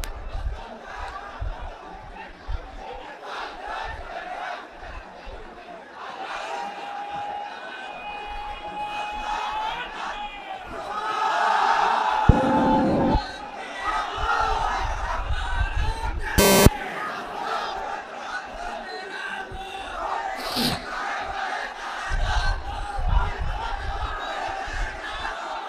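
A large crowd at an outdoor Islamic religious gathering roars back chants of takbir in loud surging waves, broken by sharp amplified bursts, with a voice leading between the responses.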